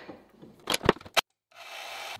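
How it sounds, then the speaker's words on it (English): Sanding down the inside channel of a cast cross slide support for a shaper, a few short close rasping strokes followed by a steadier rubbing stretch. "I proceeded with sanding down the inside channel"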